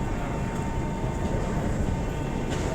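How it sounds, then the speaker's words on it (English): A Moscow metro train pulls into the station with a steady, muffled rush of air and a low rolling rumble, fairly faint and continuous, with no voices. "when the train comes in, there's a burst of wind"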